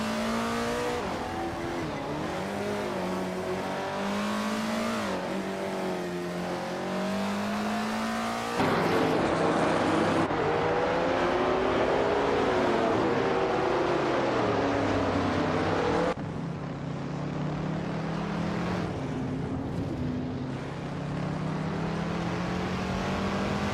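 Race car engines in a racing game, among them a 1972 De Tomaso Pantera GTS: loud continuous engine drone with rising and falling revs as cars shift gears, with no speech.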